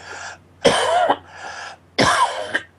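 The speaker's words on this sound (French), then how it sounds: "Alors permettez-moi de tousser" A man with a damaged lung clears his throat and coughs in two harsh, close bursts separated by short pauses, with no other sound in between.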